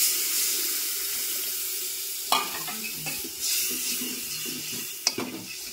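Chilli water pours with a steady hiss into a cooking pot, punctuated by a few sharp clinks of a utensil against metal.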